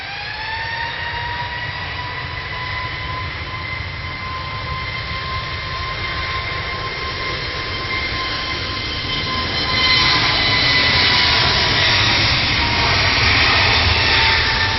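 Jet airliner engines whine steadily at Manchester Airport, an EasyJet aircraft, with sustained tonal harmonics over a broad roar that swells louder in the last few seconds; no talking.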